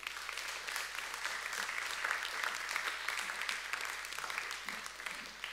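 A church congregation claps together to acclaim the Lord, a dense, even wash of applause held at a steady level for several seconds.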